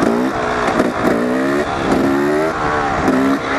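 A motorcycle revs hard in rising bursts while pulling away for a wheelie, loud and close, with the engine note climbing and dropping several times in quick succession.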